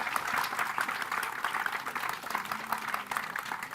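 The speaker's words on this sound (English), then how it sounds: "And applause." Applause from a panel audience, a soft, steady patter of many hands clapping at a distance that continues evenly for a few seconds.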